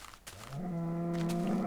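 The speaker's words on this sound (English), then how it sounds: "More cows, I hear more." Cows mooing in Minecraft, a single drawn-out low moo that starts after a brief pause and swells into a loud, sustained call.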